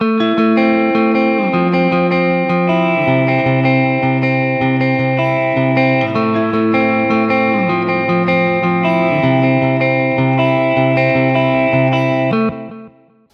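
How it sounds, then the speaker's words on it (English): Clean single-coil Telecaster electric guitar with reverb and delay, playing sustained chords and melodic lines steadily and loudly for the whole stretch, alone with no voices, ending in a brief fade. "So single coils, obviously, nice clean tone."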